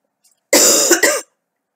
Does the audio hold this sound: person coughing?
yes